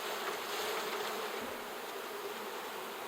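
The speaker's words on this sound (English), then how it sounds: "I'm going to shake these bees off" Honey bees buzz steadily in a dense, close drone as they are shaken off a hive frame, the swarm sound continuous and fairly soft throughout.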